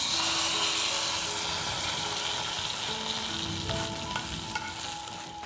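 Mustard seeds temper in hot oil for mango kichadi, giving a loud, dense sizzle with crackling pops that grow sharper and more frequent toward the end.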